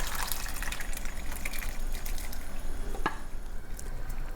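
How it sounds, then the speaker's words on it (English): Cooked dal makhani and water being poured into a pot, a continuous splashing, gushing pour with a brief clink near the end, heard alone at moderate level. "Now let's add the cooked dal makhani with the water."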